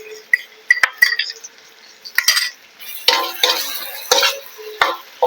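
Chopped ginger, garlic and green chilli are stirred in a hot pan for egg fried rice, with a spoon clinking and scraping against the metal and bursts of sizzling, fairly loud and close, with no talking.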